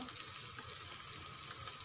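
Chopped carrots hit a hot cooking pan with a steady, soft frying sizzle, a continuous hiss with faint crackles and no talking.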